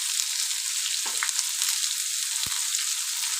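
Urad, chana and toor dal fry in oil in a pan with a steady, bright sizzle, close and even throughout, with a few soft stirring taps and no talking.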